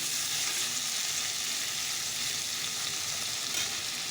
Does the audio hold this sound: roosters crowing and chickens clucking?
no